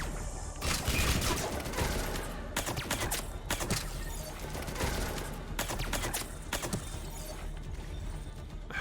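Rapid gunfire volleys from Mass Effect 3's Citadel fight, with sharp cracks in dense bursts and brief pauses, loud and close throughout.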